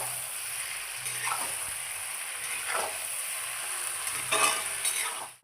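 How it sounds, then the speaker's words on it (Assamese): Duck meat sizzles steadily in a pan with onions, accompanied by periodic scraping stirs of a spatula, close and continuous with no one talking. "এয়া হাঁহটো দিলে, এতিয়া ভজাহে কথা আৰু"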